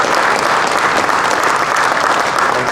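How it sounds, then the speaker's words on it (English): Dense, steady applause from an audience at a veterans tribute at an airpower museum, cheering the crew of a Black Hawk helicopter; the clapping is loud, close and continuous throughout without letup. "So let's give a round of applause to Chief Warrant Officers"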